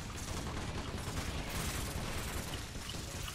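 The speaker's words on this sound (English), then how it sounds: "So this is a shotgun." Shotgun fire in Earth Defense Force: Insect Armageddon merges into a dense, continuous barrage of loud, overlapping blasts amid a swarm of giant ants.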